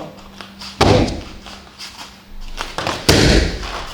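Low kicks struck slowly in a kickboxing demonstration, landing as a few heavy, separate thuds against a leg or pad, loud and close, with short pauses between impacts and no talking.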